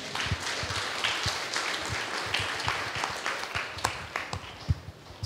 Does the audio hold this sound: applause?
yes